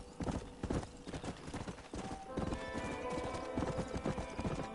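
Horse hooves clip-clop in a steady rhythm in Red Dead Redemption, close and clear, with a brief whinny and game ambience around them.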